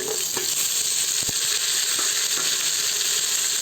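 Okra and tomato sizzle and fry in a pan, a steady, close hiss with a few brief stirring clicks and no talk.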